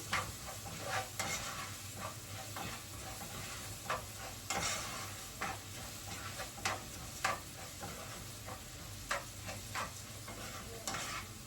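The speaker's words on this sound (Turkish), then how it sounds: "Salçanın kokusu çıkana kadar kavuracağım." Tomato paste sautéing in a hot pan, a steady close sizzle broken by repeated scraping stirs of a utensil against the pan, with no talk.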